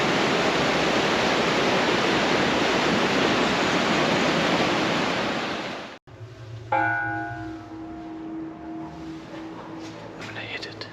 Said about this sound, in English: these people are surfing here at the river